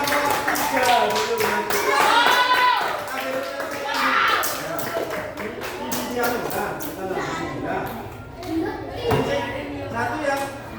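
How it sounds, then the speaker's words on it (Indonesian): Applause from a class of students for a group at the front of the classroom: a dense, steady burst of many hands clapping that runs throughout, with children's and a teacher's voices mixed in. "beri tepuk tangan dulu untuk kelompok 3 dulu"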